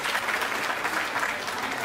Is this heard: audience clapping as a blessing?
yes